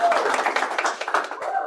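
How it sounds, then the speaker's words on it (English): A small audience at a presentation claps in scattered, uneven bursts, moderately loud, with a voice audible at the edges. "Can I get a round of applause?"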